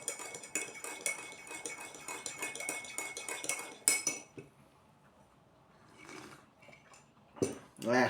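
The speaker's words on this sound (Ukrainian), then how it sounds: "Добавляємо цукру у чайок наш і розмішуємо." A spoon stirs sugar into a cup of tea, producing rapid close clinks and scrapes against the cup for several seconds, then a few quieter clinks and handling sounds after a pause.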